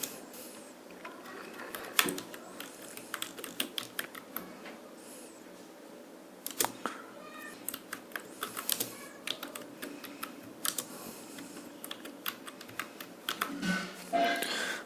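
Someone types on a computer keyboard nearby, a quiet irregular patter of key clicks that runs throughout with short pauses and occasional louder strokes, and no speech.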